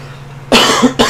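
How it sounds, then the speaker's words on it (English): Two close, forceful coughs from a man near the microphone, a sharp burst followed by a shorter second one after a brief pause. "A little bit of coughing?"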